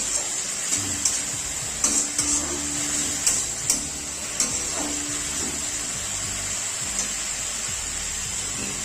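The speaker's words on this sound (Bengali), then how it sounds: "পেঁয়াজটা ভেজে নেবো একটু ভালো করে, মোটামুটি 2-4 মিনিট মতন ভেজে নেবো।" Onion paste fries in a pan, giving a steady bright hiss with a few soft spatters and utensil taps spread through.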